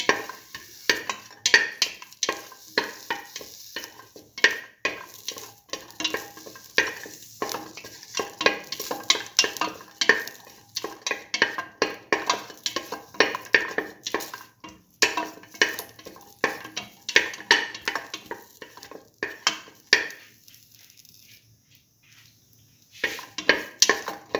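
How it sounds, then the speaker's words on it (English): A potato mixture for a coconut toast sandwich is sautéed in a pan, with dense spatula scrapes and stirring clatter over a light sizzle. The stirring pauses briefly near the end, then resumes. "Saute thoroughly."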